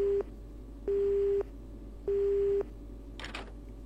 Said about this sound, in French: Le taxiphone qui sonne.